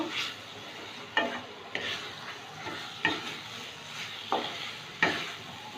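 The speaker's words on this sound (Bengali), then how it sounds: "দু মিনিট আলুটা কষিয়ে নিলাম" Potatoes are stirred with masala in a hot pan, with regular scraping strokes about once a second over a low, steady sizzle.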